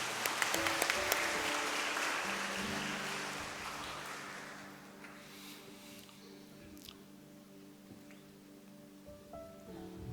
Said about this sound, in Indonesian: Mari kita beri aplaus anak-anak kita ini